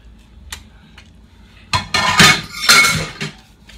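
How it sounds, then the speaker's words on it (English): Cutlery scraping and clinking against a plate after a breakfast meal, a couple of faint taps and then a burst of loud, close scrapes and clatter, no talking. "I am scraping the plate."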